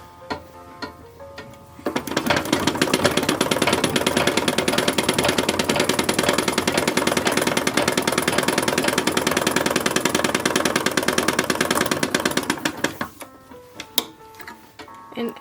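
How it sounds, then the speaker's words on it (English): Sewing machine running a long steady burst while stitching the shoulder seam of an 1870s-style wrapper dress, a rapid even mechanical ticking whir lasting about eleven seconds, close and loud, with quieter handling before and after. "I'm going to sew the shoulder seam on this one."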